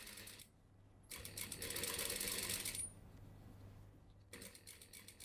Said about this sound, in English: Sew it together, stitching.